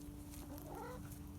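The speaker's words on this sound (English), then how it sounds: "This one just keeps cawing." A backyard farm chicken clucks softly and continuously, a faint, low, close murmur with no talk.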